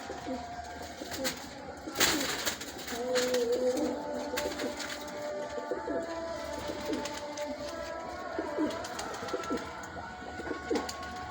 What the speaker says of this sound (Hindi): ये भी एक टेडी कबूतर है, इसका शौक़ करें।